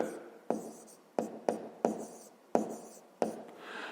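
Pen writing math on paper during a fifth-grade arithmetic exercise: six sharp strokes and taps land at irregular intervals, each trailing into a soft scratchy scrawl, close and fairly quiet with no voice.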